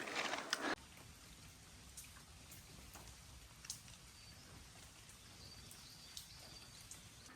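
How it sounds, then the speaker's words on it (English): Rain falling in a forested spot during a cycling stop in Japan, a steady soft patter with scattered drop ticks, faint throughout after a brief louder burst at the start. "It is raining a bit more."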